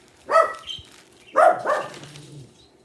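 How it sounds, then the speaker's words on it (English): A dog barks twice, a second apart, from somewhat nearby, with a short muffled yip trailing after the second bark. "just because you're in the other room don't mean you can bark too"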